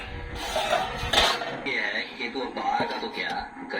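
Dishes and utensils clink and scrape as hot rice is served beside lemon and a spicy fish curry, several bright metallic knocks near the start and lighter scraping afterward, up close in a home kitchen.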